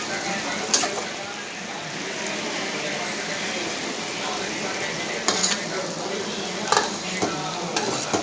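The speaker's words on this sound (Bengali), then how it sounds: "একটু মাংসটা এবার আমি কষাবো।" Mutton is stir-fried in a pan for Bengali-style mutton kosha, a steady close sizzle with scattered spoon scrapes and clinks against the metal.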